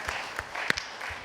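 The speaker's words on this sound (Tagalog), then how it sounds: "Malakas na palakpak sa Panginoong Yesus." A church congregation applauds during a worship service, a steady wash of many hands clapping throughout. Some sharper individual claps stand out now and then at moderate loudness.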